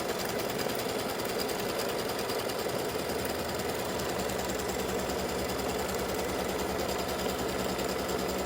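An embroidery machine runs steadily, stitching color 2 to tack down batting for a Valentine gnome in-the-hoop mug rug side panel. The rapid mechanical chatter is loud, close and continuous throughout, with no talk.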